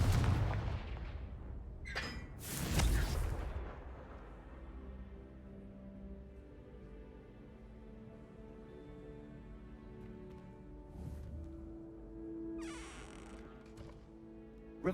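Confringo spell explosions in the Hogwarts Legacy video game, set in the Feldcroft catacombs: a couple of heavy booming blasts near the start, then a low rumbling ambient hum and another burst later, with no talking.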